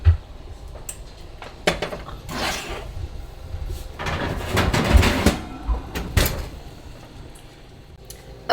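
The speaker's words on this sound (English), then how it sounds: "So it's been in the oven for 40 minutes and we're gonna pull it out." A baking dish of enchiladas comes out of a kitchen oven with a series of clanks, thuds and scraping rattles spaced over several seconds, close by, with quieter pauses between the handling noises.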